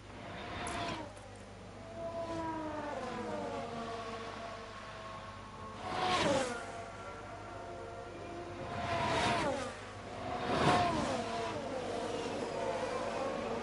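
F1 Manager 22 race cars at Miami overtake under a steady engine drone, with three whooshing surges as cars sweep past at mid distance.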